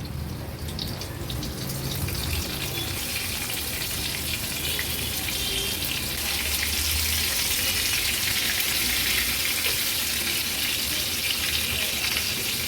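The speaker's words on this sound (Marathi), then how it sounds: "आता एक एक करून ही कालवं आपण तेलावर सोडणार आहोत. अगदी मच्छी तळतो ना तशीच ही कालवं आपल्याला तळायची आहे." Oysters (kalva) slid one by one into hot oil in a pan on a low-to-medium gas flame, Agri Koli style, giving a steady close sizzle and hiss that swells slightly louder partway through, with no talk.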